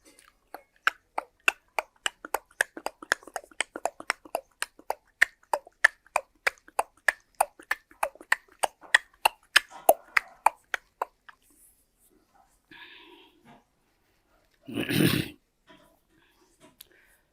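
A voice mimics the hoofbeats of a horse pulling a tanga: crisp, evenly spaced clopping clicks in a brisk rhythm for about ten seconds, then a few scattered softer sounds and one louder breathy burst near the end.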